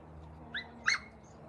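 A dachshund puppy gives two short, high yips, faint and in the background behind a low steady hum.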